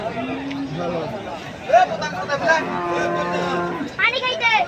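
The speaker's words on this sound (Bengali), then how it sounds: "দেখুন বন্ধুরা কত সুন্দর এক সাইজের গরুগুলো সবই ছোট গরু মাঝারি গরু" Cattle and calves at a busy livestock market moo repeatedly in long, drawn-out calls, several animals overlapping nearby, over a background of crowd babble.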